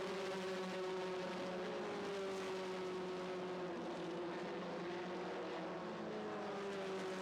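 A Formula 1600 single-seater race car with a 1.6-litre Ford Fiesta engine drones steadily at high revs, its engine tone holding level and slowly sliding lower as it runs continuously.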